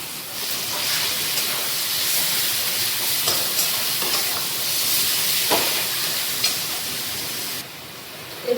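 Ground yardlong bean paste fries in a pan with a continuous loud, close hiss and sizzle that runs almost the whole time before dropping off near the end.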